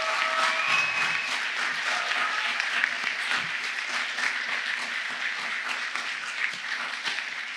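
Audience at a Stetson University College of Law fall graduation ceremony applauding the graduates, a dense, steady round of clapping from a large crowd that slowly tapers over several seconds.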